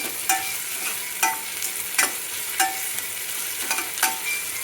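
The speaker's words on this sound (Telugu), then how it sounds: "ఇది బ్రౌన్ కలర్ వచ్చే వరకు కలుపుతుండాలి" Food stirred in a frying pan until brown, a steady sizzle punctuated by evenly spaced scraping strokes of the spoon about once a second, close and loud with no talking.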